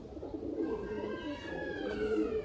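Soft, throaty cooing of teddy pigeons in Sialkot, several overlapping calls rolling on steadily with a low murmur underneath.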